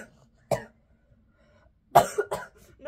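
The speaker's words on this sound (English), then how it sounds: "just coughing and like burping at the same time" Two separate bursts from a person coughing while trying to burp during a Sprite challenge: a single cough, then after a pause a cluster of rough, throaty cough-like sounds, close up with quiet between.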